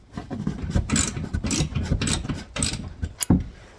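A 5/8 ratchet wrench turns a nut on a 2024 Ford Ranger XLT 2.7 during a leveling kit install, giving a run of quick, close metallic clicks in short bursts with a sharper knock near the end.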